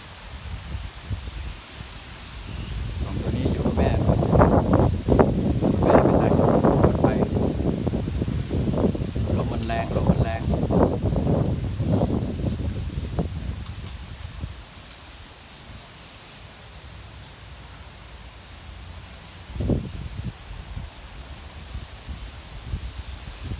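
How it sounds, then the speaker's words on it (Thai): Strong, gusty wind blows across an open farmyard near a rice barn, swelling into a loud, roaring rush for several seconds before easing to a lighter breeze, with a brief sharp knock late on. "ลมแรงมากเลย"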